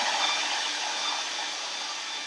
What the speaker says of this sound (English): So I'm just going to take my hairdryer to it.